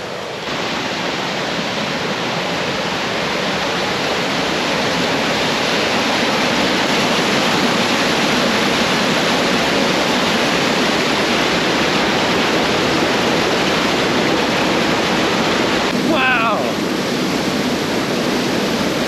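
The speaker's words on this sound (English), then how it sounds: "there is another cave and a waterfall just right up here" Steady roar of a cave waterfall at Wolf Creek Cave Falls in the Arkansas Grand Canyon, dense and continuous throughout, with a brief faint rustle near the end.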